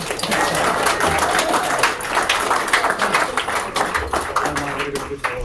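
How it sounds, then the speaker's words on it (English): Audience at a partner program launch event applauding, dense clapping with some cheering and voices mixed in, steady and fairly loud before easing slightly at the end. "Another big cheer."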